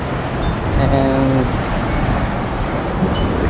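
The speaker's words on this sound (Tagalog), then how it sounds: "Napakalakas pa ng alon." Strong ocean waves break below a rock formation at a coastal spot in Roxas City. They make a loud, continuous roar mixed with heavy wind buffeting the microphone, and a voice speaks briefly over it.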